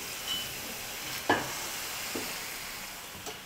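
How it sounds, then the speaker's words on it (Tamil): Murukku dough deep-frying in hot oil for a Tamil mixture snack, giving a steady, faint sizzle throughout with one brief click near the middle; no one speaks. "இதே போல் மீதி இருக்கிற எல்லா மாவையும் எண்ணெயில் போட்டு சுட்டு எடுத்துக்கலாம்."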